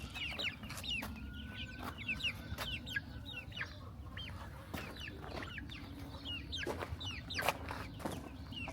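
A hen clucks softly and repeatedly among her chicks in a farmyard, with thin chick peeps scattered throughout, the whole scene quiet and close.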